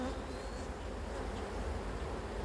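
Honey bees buzz around an opened hive, a steady dense hum filling the whole stretch with no clear breaks, close and fairly quiet.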